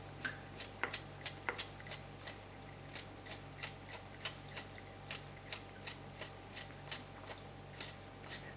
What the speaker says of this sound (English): I'm cutting it small like that, little pieces, so you don't have a big chunk of carrot